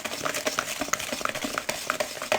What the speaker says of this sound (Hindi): अब इन तमाम चीज़ों को हम अच्छे से मिक्स कर लेंगे